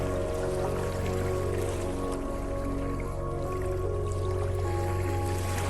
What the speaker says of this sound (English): The sound of a fast-running stream is a challenge it cannot ignore.